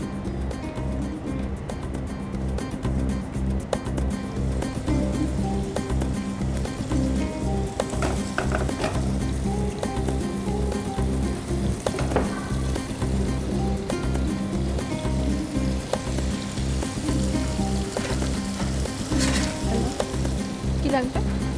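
Chicken pieces frying in hot oil, a dense continuous sizzle and bubbling that stays loud throughout, with faint background music underneath.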